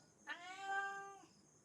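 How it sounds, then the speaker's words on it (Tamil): A single clear meow from a house cat, rising and then falling over about a second, close and fairly loud, with no other sound around it. "இது வந்து நம்ம வீட்டு பூனை தாங்க."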